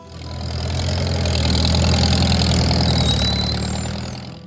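A Farmall Model H tractor engine idles in a steady low rumble that swells and fades gently over a few seconds, close and alone.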